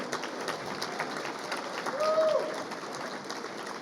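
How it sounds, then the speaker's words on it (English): A breakfast gathering applauds its table hosts, with moderate clapping across the room that swells briefly midway and then settles, with some voices mixed in. "please give a round of applause for all of our table hosts"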